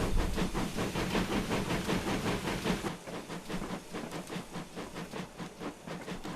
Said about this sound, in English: Sorry if the locomotive is quite loud